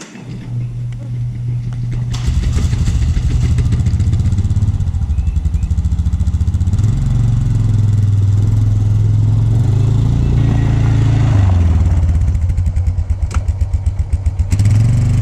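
A four-wheeler idles and revs with a pull-behind mower hitched behind it, a steady loud engine drone that swells and settles over the whole stretch with some mechanical clatter, no talking.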